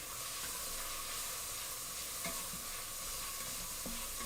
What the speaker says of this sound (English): frying up some good old-fashioned bacon